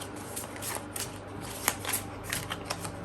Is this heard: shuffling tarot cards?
yes